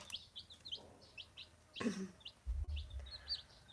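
Small chicks peep in quick, high repeated chirps close by while a hen gives a few low clucks partway through, with a short rustling bump in the middle.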